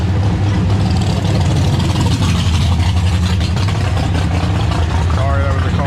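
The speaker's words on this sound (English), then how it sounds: "Sorry, that was a car there." A steady engine drone rumbles throughout, a vehicle moving nearby with a continuous low roar and road noise, no clear talking.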